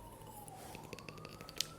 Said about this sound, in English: Yeah, that's police sirens you hear outside.